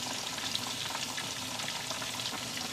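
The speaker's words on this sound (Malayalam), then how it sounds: "ഇത് പതുക്കെ 2 സൈഡൊന്ന് മുരിച്ചെടുക്കുക." Chicken pieces shallow-frying in a pan for Kerala chicken roast make a steady, close crackling sizzle with dense popping that carries evenly from start to finish, with no voices.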